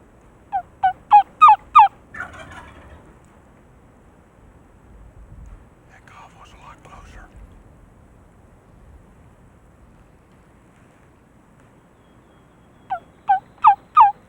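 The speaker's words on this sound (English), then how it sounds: "not just one, but two mature Rio Grande toms" Two mature Rio Grande wild turkey toms gobble during a spring hunt: a loud rapid burst of gobbles opens, then a long lull with faint low rustling and wind, and another strong gobbling burst closes.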